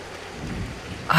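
Heavy rain pours in a Hindi cartoon, a dense steady hiss of rainfall with a low rumble underneath, swelling briefly at the very end.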